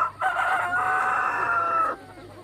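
A rooster crows at dawn beside a municipal prison, one long clear cock-a-doodle-doo held for almost two seconds, loud and close, with nothing else around it.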